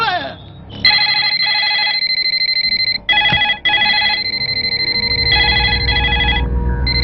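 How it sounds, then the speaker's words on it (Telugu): A telephone rings with a bright, loud bell trill in repeated bursts separated by short gaps, then a low rumble of background noise takes over near the end. "కోటేశ్వరరావు గారు లిఫ్ట్ చేయండి."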